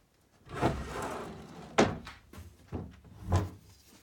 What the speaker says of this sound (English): So these doors fold into the cabinet itself